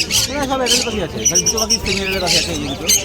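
Squawks and chirps from caged birds such as lovebirds at a busy bird market in Dakshineswar, Kolkata, sharp and close, mixed in with people talking.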